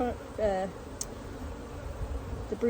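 Honeybees buzz around an open hive frame during a beekeeping inspection, a steady nearby hum with a few louder passes of individual bees close by.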